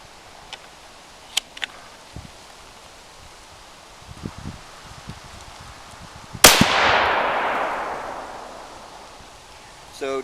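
A .22 Creedmoor rifle fires an 80-grain ELD-M bullet in one loud, sharp crack. A long reverberating decay rolls away for several seconds, with faint ticks and handling noises before the shot.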